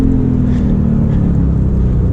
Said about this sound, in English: I put the sport exhaust on,